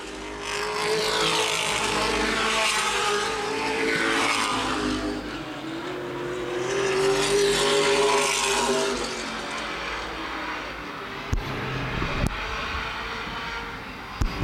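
Late model race cars at Baer Field Speedway roar continuously through a NAPA Late Models feature, engine noise swelling and fading as the pack passes, with a few sharp knocks near the end.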